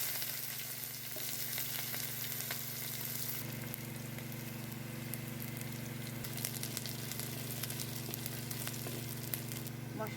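Chopped onion, whole cumin and garam masala fry in oil with a continuous, even sizzle that grows slightly brighter partway through, steady and close with no talking.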